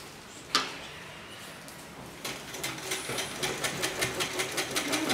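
Domestic sewing machine stitching the cuff of a dhoti salwar, heard after a sharp tap as a steady run of quick rhythmic mechanical ticks close by, with no talking.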